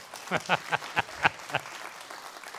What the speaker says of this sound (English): those of you that wanted to applaud, you could do that now